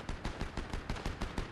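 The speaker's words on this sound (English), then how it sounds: "Nope, I'm hearing gunshots." Rapid bursts of gunfire from the Fortnite video game, sharp repeated shots in a steady rhythm roughly every fifth of a second, fairly loud and continuous without speech.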